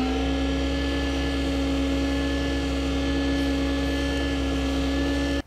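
A wood lathe spins a chalk holder made from a PSI kit while it is sanded with the final, finest grit, giving a loud, continuous motor drone with a steady tonal hum and no break.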